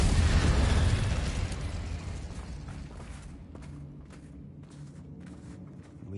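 Incendio fire spell going off in a Harry Potter video game, a loud whooshing burst that starts full and slowly fades into a lingering rumble over several seconds, no talk.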